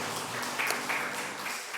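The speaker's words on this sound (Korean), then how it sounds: "하나님께 영광의 박수 돌려드리겠습니다." A church congregation claps together during a worship service, a dense, steady patter of applause heard at a moderate distance and fairly quiet.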